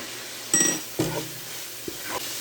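A utensil clanks and scrapes in a cooking pot while hamburger and shallot are broken up. The sound is a few separate close knocks and scrapes over a faint sizzle.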